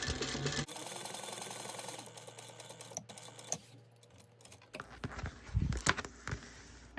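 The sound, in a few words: sewing machine stitching a bow for a bag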